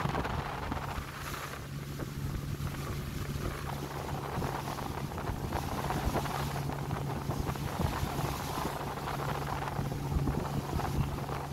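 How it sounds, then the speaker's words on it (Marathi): A speedboat ride in Thailand, with a continuous roar of engine and rushing water buffeted by heavy wind against the microphone, loud and unbroken throughout. "याला स्पीड बोट म्हणतात."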